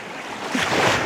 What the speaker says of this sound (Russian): Сейчас я вам покажу море.